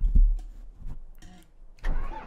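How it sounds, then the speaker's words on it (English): A John Deere tractor engine starting up in the Farming Simulator 17 game, with a short cranking burst followed by the engine catching into a loud, close rumble. "So yeah, we'll get the John Deere booted up. That's a little bit loud."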